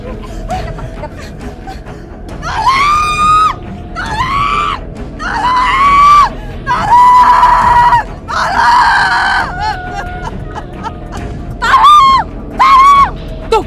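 A woman screams repeatedly in a dramatized Indonesian TV drama scene, with several loud, drawn-out shrieks in close succession, some breaking into higher wails, over a faint background hum.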